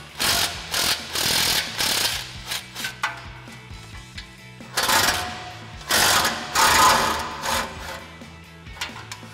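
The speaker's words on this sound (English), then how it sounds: "13 millimeter swivel socket and extension on our impact. We're going to fish that up in there, unbolt those 2 nuts" An impact wrench on a 13 mm swivel socket and extension loosens two exhaust nuts from below a vehicle, firing in several short hammering bursts with gaps of quieter clanking between them, close and loud.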